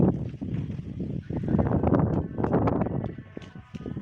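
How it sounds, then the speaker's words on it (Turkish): Strong gusty wind in a garden buffets the microphone in loud, rumbling bursts, rising and falling without a break. "Elimdeki telefon sallanıyor vallahi rüzgardan."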